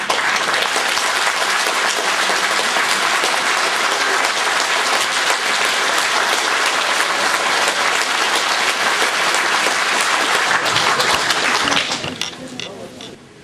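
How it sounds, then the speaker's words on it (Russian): A dense, loud, continuous round of applause fills a hall as an audience claps without pause, then thins out and fades near the end. "Встаньте, чтобы мы вам могли аплодировать."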